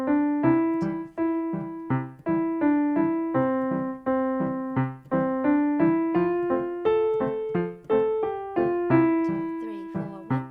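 Piano plays a simple beginner accompaniment pattern for a song, a steady waltz-like sequence of repeated notes and chords in three-beat groups, clear and close with no talking.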